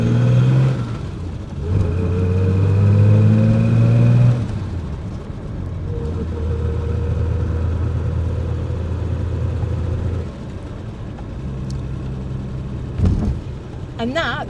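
A 1970s Triumph GT6 classic sports car accelerates through its gears, with the engine note rising, dropping at each shift and climbing again, loud and close from inside the cabin, and a few voices briefly over it.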